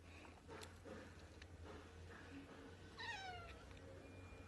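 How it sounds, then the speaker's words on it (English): A pet cat named Creamy gives a single rising meow near the end, fairly close and moderately loud over a low steady indoor hum, with brief faint sounds before it. "And there's my cat."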